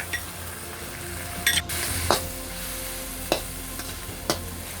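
Glass noodle pad thai being stir-fried in a pan with tamarind sauce, a steady sizzle running throughout with a few sharp clinks and scrapes of a utensil against the pan.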